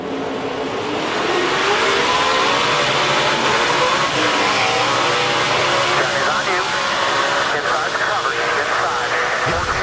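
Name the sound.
NASCAR truck spinning its tires on a restart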